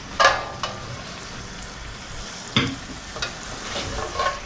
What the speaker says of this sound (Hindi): अब ये देखें हम जो है टिक्कियाँ इसमें डालना शुरू करेंगे, और इसको इस तरह करके हमने नीचे प्रेस करना है।